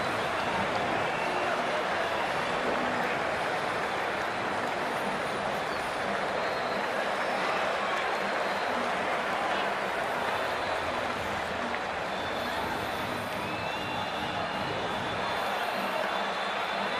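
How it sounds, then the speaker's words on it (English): A near-capacity stadium crowd at a cricket match in the Cricket 2024 video game makes a dense, continuous roar of murmur and chatter that holds steady throughout. "The crowd has arrived and it's near capacity."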